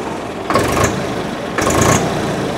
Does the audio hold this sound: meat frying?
no